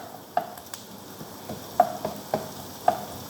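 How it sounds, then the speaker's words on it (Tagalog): Onion browning in a pan makes a faint, steady sizzle, broken by several light clicks and taps of stirring spaced through the stretch, with no talking. "Pinapa-brown ko konti yung onion."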